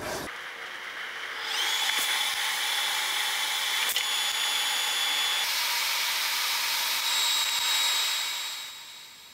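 TIG welding on a car fender panel: a steady, close hiss with a thin high whine that starts abruptly and holds for about eight seconds before tapering off, with no talking.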